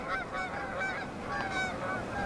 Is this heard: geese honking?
yes